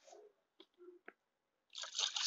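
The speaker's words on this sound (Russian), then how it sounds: "Сейчас воду залью." Water poured from a bucket into the cooling system of a Volkswagen Golf 2 during a coolant flush, heard as a few brief splashes and gurgles, then a louder, sustained pouring rush at close range.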